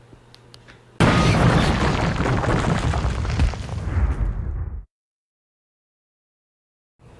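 A cargo plane crash in a flight simulator game: a sudden loud roaring explosion bursts in and rumbles for about four seconds, then cuts to dead silence.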